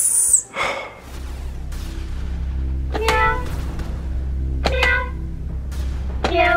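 A person imitates a cat's meow, with a few short, vocal meow-like calls that repeat every second or so over a steady low hum.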